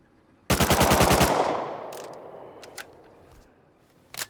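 An automated turret in the video game Rust fires one rapid burst of about ten loud shots. A long echoing tail follows, then a few faint clicks and thuds.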